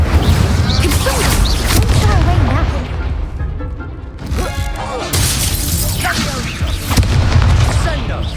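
Fire spell cast in the Hogwarts Legacy video game, loud booming and crackling bursts in a busy battle mix, with a second surge of impacts near the end.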